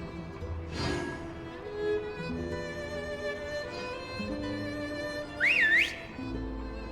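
A rising-and-falling whistle in Genshin Impact sounds once, briefly and fairly loud, over a steady bed of in-game music.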